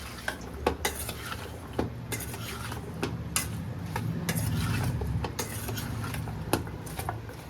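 Sweet gol keri mango pickle mixture with turmeric, salt and a little mango water being stirred in a vessel: a steady scraping rustle punctuated by several sharp clinks of the spoon against the pot, close and moderately loud, with no talking.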